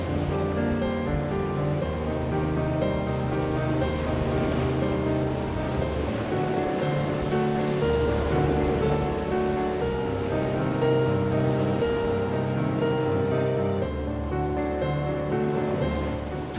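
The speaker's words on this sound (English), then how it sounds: "Far below us, the waves rumbled against the rocks." Sea waves rumble against the rocky cliffs of Mingulay in the Outer Hebrides, a continuous low surf wash under a steady musical backing.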